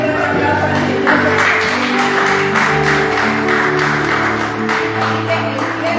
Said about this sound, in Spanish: Así que empiecen a dar un aplauso al Señor